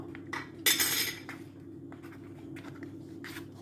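Meringue being lightly mixed with food colouring, a utensil scraping and clinking against a bowl in a few short strokes, one louder scrape early on and then softer taps.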